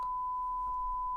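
A single steady censor bleep, a pure sustained tone lasting about a second over a bad word, clean and alone.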